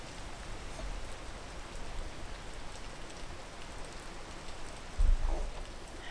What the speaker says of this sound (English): Just gotta wait for it to stop raining again.